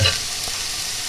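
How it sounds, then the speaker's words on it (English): Chopped onions soften in a pan over medium heat for peri peri style rice, giving a brief, steady gentle sizzle with a small stir at the start. "sweat off the onions over a medium heat"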